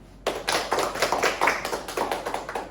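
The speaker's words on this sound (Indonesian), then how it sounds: "Tepuk tangan dulu Mbak Nadine." Applause for Nadine after she shares her story, sharp hand claps starting abruptly and continuing in a quick, fairly even rhythm, close and clear with no talk over them.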